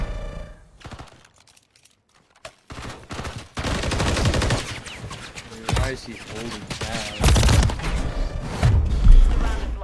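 Video game gunfire breaks out after a brief quiet, rapid shots and automatic bursts cracking repeatedly and growing louder, mixed with a person talking.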